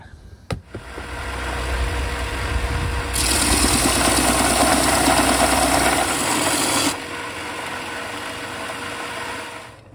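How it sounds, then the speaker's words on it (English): Large power sander shaping the armrest edge of a wooden travel guitar body, a steady loud mechanical drone that grows harsher with abrasive grinding in the middle stretch, then settles back to a running hum. "So I'm gonna use the big sander for that."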